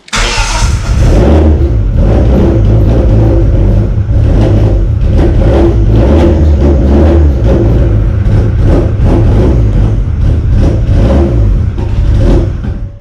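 A 25-year-old Dodge Neon ACR with a big cam, under restoration and running without oxygen sensors hooked up, starts and runs loud and close, its rough, lumpy idle swelling into repeated revs throughout.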